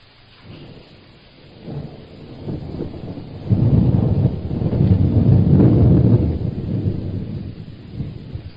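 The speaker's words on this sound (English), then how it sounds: "It's a mighty grist of rain out yonder." Heavy rain pours steadily while thunder rumbles and swells in the middle, a deep rolling roar that builds and then slowly fades, with no voices over it.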